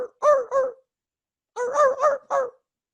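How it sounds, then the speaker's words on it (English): A dog barks in a neighborhood, two short barks followed by a pause and then four more in quick succession, clear and fairly prominent rather than faint, with no other sound between them. "A dog barking, just like you'd hear in any neighborhood in America."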